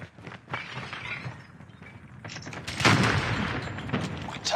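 A frag grenade detonates in the Call of Duty Mobile shooter, a loud shattering burst near the middle that follows scattered gunfire and game effects, with a dense crackling tail.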